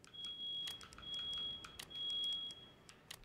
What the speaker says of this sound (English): the fire alarm in my house went off